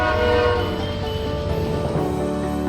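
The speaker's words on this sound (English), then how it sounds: "as if on cue, one more train." A loud, close train horn blares over the rumble of a passing train, one sustained tonal blast that holds steady throughout.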